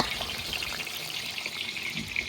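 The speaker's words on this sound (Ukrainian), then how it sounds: "Крилишка ложимо не всі, а порціями приблизно по одному кілограму. І варимо їх в олії." About a kilogram of chicken wings deep-frying in oil in a large kazan, a dense, steady bubbling crackle that stays even and continuous throughout.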